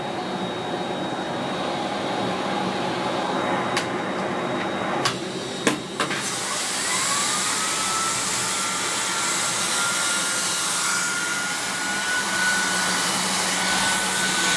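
A 2017 Miele CX1 Blizzard Comfort PowerLine canister vacuum cleaner running with its mini turbo tool gives a loud, steady whining roar close by, with a few sharp clicks early on.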